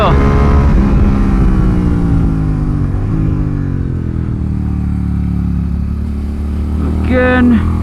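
A Suzuki SV motorcycle climbs a hill on a race track, its engine loud and close as it pulls hard through the gears, with a steady rising drone and a brief shift near the end.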